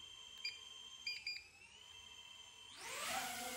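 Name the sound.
DJI Avata 2 drone motors starting up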